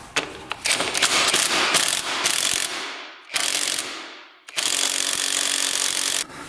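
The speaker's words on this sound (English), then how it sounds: "we're gonna see if we can get this nut off of here." Ratchet wrench working a stubborn nut on a Honda TRX450 quad, several bursts of rapid clicking ratchet strokes separated by short pauses, close and loud with no talk.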